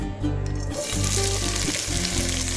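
Chopped onions frying in two tablespoons of oil in a kadai, a steady close sizzle with bubbling crackle throughout, no voices.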